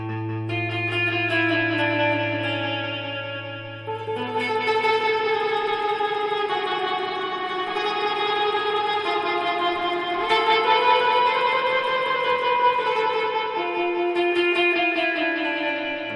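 Guitar notes ring through a Boss DD-5 digital delay with long feedback, repeats piling up and smearing into one another in a shimmering, sustained wash.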